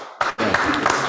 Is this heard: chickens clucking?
no